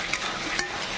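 Chicken with yogurt and onions being stir-fried in a pan to a thick, dry coating, a soft steady sizzle with a couple of brief stirring scrapes, close and fairly quiet.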